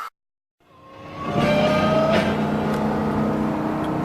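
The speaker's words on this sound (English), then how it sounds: "Here's the first time I've ever held Big Red wide open for a while. We're climbing a hill" A Gravely Model L tractor nicknamed Big Red, hauling a trailer, runs wide open up a hill: after a brief silence the engine swells into a loud, steady high-revving drone that holds constant to the end.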